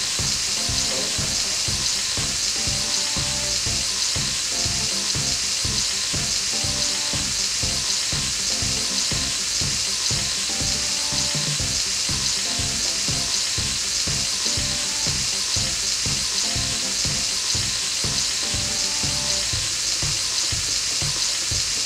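Meat skewers sizzle steadily in a hot pan, a loud continuous frying hiss with frequent soft clicks and shifts as they are turned, with no talking.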